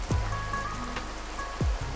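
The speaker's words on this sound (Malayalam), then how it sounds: "അവർ ശക്തമായി മഴ പെയ്യിച്ചു തുടങ്ങി." Heavy rain pours over a forest in an animated cartoon, making a continuous wash of falling water with a couple of swooping tonal effects.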